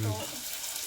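Cumin and mustard seeds sizzle in a frying pan as a loud, close, steady hiss, with a short burst of voice at the very start.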